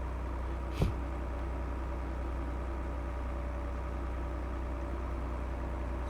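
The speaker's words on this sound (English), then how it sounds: "Quite a nice little tractor, this one. It is, and I do like this John Deere." A John Deere tractor in Farming Simulator 22 gives a steady, low engine drone that holds even throughout, broken only by one brief click near the start.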